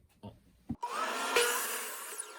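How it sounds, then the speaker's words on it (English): A miter saw set to 10 degrees spins up after a couple of light knocks and bites through a wooden piece for a blanket ladder, a loud, close, rising whine that holds steady to the end. "So I'm going to move the miter saw over to 10 degrees here. And I'm going to make a 10-degree cut."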